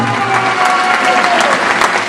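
A crowd in a shopping mall gallery applauds at the presentation of the KMŻ Lublin speedway team's riders, giving loud, dense, sustained clapping that fills the whole moment.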